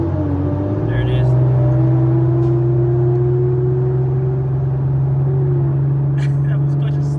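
Mustang 5.0 and Nissan 370Z street cars racing, a steady loud engine drone with rising revs under acceleration, heard from inside a car, with a few faint background clicks.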